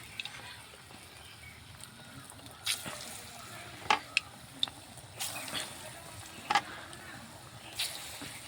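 Pumpkin fritters frying in hot oil give a faint, steady sizzle with a few sharp pops and spatters. The sound is quiet and low-level throughout.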